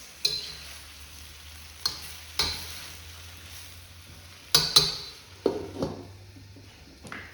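Vegetables simmer in sauce in a pan with a faint, low sizzle. A utensil stirs the pan now and then, making a few sharp clinks and scrapes spaced out over a quiet background.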